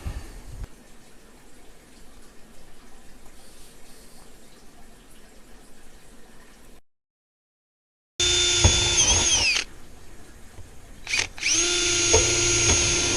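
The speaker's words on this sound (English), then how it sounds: "decided to go ahead and drill a few small holes" After quiet outdoor ambience and a brief silence, a power drill whines loudly in close, short bursts, stopping and starting a few times, drilling small holes in a metal roof.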